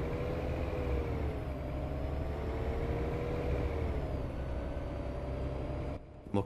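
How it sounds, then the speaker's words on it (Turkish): A Mercedes Citaro O530 city bus engine runs in the OMSI 2 driving simulator, a steady low drone with a gently rising and falling whine as the bus moves, then cutting off abruptly near the end. "Motorun sesi bayağı iyi geliyor yalnız ha."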